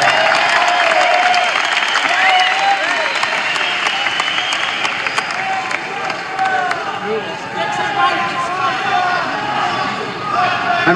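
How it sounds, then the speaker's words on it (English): A concert audience at a 1978 live show in Suffern gives a loud round of applause, with clapping, cheers and crowd babble filling the hall and rising and falling over several seconds. "Give Andy a nice round of applause."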